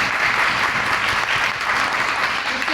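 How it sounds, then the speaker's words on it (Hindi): Audience members at a training program burst into loud, sustained applause, a dense steady wash of clapping from a full room. "आप सभी अपने लिए एक बार जोरदार ताली।"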